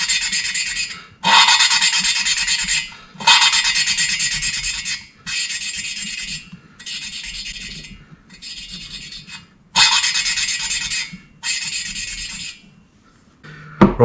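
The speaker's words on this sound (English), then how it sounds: "suction cup one end to the base of the valve, and work it backwards and forwards like so" An engine valve from a Yamaha XS650 motorcycle is lapped against its seat with a suction-cup tool. The gritty grinding comes in repeated bursts of one to two seconds with short pauses between, loud and close, with no voice.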